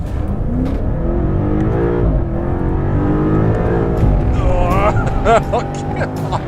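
A 2021 BMW M5 Competition accelerates hard, its engine roaring loudly and climbing through rising revs with quick gear shifts, heard from inside the car with a steady road rumble underneath.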